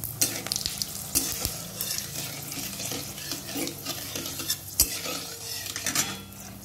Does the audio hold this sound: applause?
no